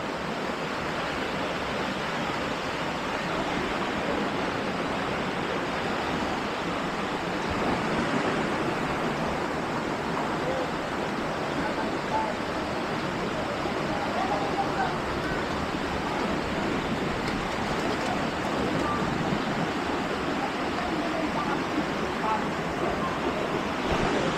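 A swollen river rushes steadily after nonstop rain, a dense, unbroken roar of flowing water heard up close and fairly loud throughout.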